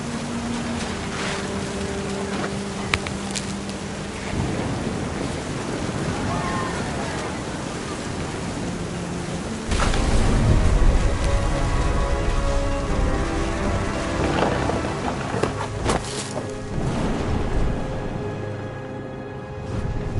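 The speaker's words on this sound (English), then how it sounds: "The thunder sounded much too close and full of angry power." Storm in What Remains of Edith Finch video game: steady rain and rumbling, surf-like thunder fill the scene, swelling louder halfway through, with a narrating voice speaking over it.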